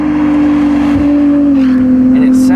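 A Ferrari 296 GTB's exhaust drones loud and steady at about 4,000 rpm on narrow back roads, its tone sliding slightly lower midway, with someone talking over it.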